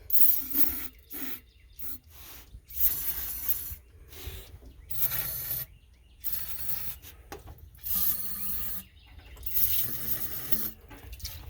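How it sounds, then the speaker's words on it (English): PB Blaster penetrating oil spraying from an aerosol can into the cylinder holes of a 1947 Ford Super Deluxe engine, a series of hissing squirts in irregular bursts with brief gaps, close and steady, no voices. "grab our can of PB Blaster, and give a little squirt"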